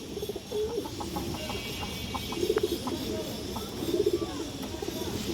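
Large silver pigeons cooing on a farm, their soft throaty calls rising in a few short rolling bursts over a steady background hum, with a voice talking faintly in between.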